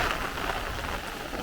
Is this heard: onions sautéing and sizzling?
no